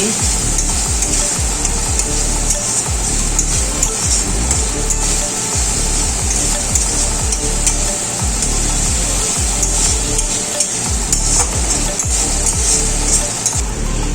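Spice paste with turmeric and salt being stir-fried in a pan for butter chicken balls: a steady sizzle under repeated rhythmic scraping of a spatula against the pan.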